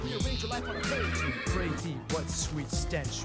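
Horses in the Minecraft video game neigh and whinny in repeated loud, close bursts, several calls overlapping over about three seconds.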